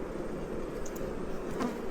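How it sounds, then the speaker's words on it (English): A honey bee buzzes close by inside a beekeeper's veil, a continuous near drone over a hum of other insects, with no talking. "And there's a bee in my veil."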